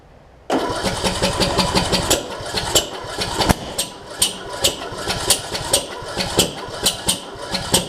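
A John Deere D110 riding mower engine turns over with rough, uneven cranking, kicking back in repeated sharp knocks and sputters during a start attempt, loud and close with no talking.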